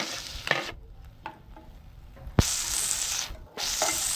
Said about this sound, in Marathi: आता मी त्याच्यात टोमॅटो टाकते.